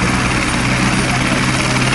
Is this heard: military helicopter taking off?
yes